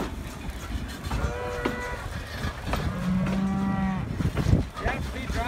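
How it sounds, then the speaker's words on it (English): Cattle moo loudly and close by near a railroad, with several drawn-out lowing calls overlapping one another and steady outdoor background noise. "You have to be driving cattle at this time?"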